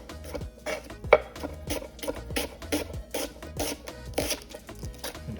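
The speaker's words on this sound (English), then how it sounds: "I'm also going to take that half an onion and simply cut thin slices" A knife slicing half an onion into thin slices on a cutting board: a rapid, regular series of close, crisp chopping taps with faint crunch, no talking.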